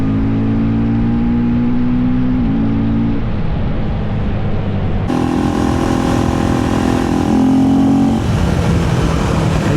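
A KTM 390 Enduro R motorcycle rides along a road, its single-cylinder engine droning steadily and shifting pitch through gear changes, with strong wind rush and no voices.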